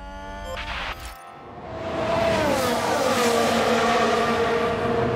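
Formula 1 race car engines in the F1 Manager 2022 video game at the Dutch Grand Prix, a steady high-pitched whine that rises and shifts as the cars rev, with a brief dip in the middle, loud and sustained with no talk.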